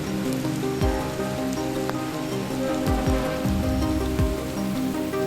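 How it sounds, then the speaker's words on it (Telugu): Heavy rain in Kerala beats down steadily on surfaces, a loud continuous patter over a low droning engine from nearby heavy machinery. "ఇక్కడ వర్షం చూడండి ఏ విధంగా పడుతుందో"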